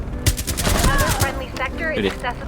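Rapid bursts of gunfire in Rainbow Six Siege X, loud and close, clattering under excited talk from players.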